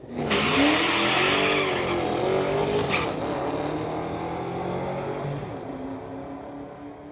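A Fox Body Mustang launching down a drag strip in the TCS lane, a loud engine roar with a brief tire squeal near the start that fades as the car pulls away.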